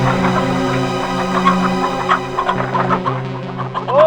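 Chickens at a poultry farm cluck and squawk continuously and fairly close, in a busy flock chorus over a steady low hum, with one sharper squawk near the end.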